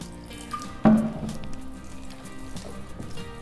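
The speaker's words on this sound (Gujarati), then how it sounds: "હવે તેમાં થોડું પાણી ઉમેરી અને બેટરની કન્સિસ્ટન્સીને સેટ કરી લઈએ" Water poured into a thick besan and fenugreek fritter batter, a single close splash followed by a brief liquid trickle in a quiet kitchen.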